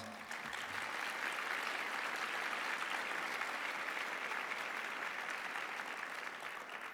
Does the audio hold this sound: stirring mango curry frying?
no